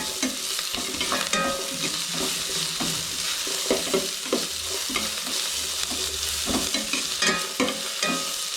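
Chicken pieces for pepper chicken dry fry in a pan with a steady, close sizzle, broken by repeated scraping stirs at a fairly regular rhythm.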